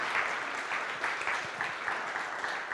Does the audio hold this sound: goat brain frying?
no